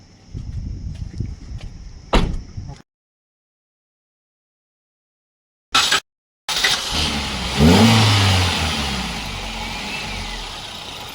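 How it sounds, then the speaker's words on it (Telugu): A 2014 Maruti Swift Dzire VXI CNG engine runs with a low rumble and a rise in revs, interrupted by two brief silent gaps. "ఇంజిన్ అయితే స్టార్ట్లో ఉంది."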